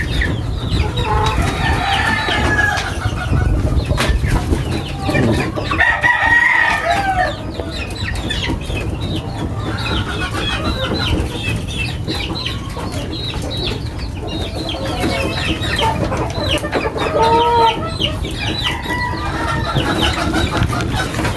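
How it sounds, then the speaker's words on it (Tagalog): Backyard pet chickens cluck busily close by, with sharp repeated calls and bursts of wing flapping, while a rooster crows a few times over the continuous cackling. "At nag-aantay na rin yung aking mga alagang manok"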